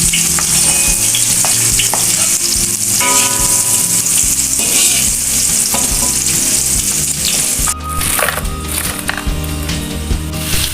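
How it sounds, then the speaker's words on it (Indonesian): Onions fry in reduced oil in a pan, giving a continuous close sizzle with stirring scrapes and clinks throughout, during preparation of balado dried fish and tempeh. "Sekarang kita goreng bawang ya Bunda."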